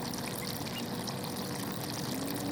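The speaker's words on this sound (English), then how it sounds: "I'm able to open the drain and let the water out" Steady rushing water pours out of a flooded jon boat's drain continuously, a dense even gush without pauses or voices.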